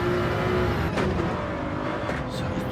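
Toyota GR1 race cars in a sim racing game roar past at Red Bull Ring, their loud, high whining engines sweeping by in a continuous rush.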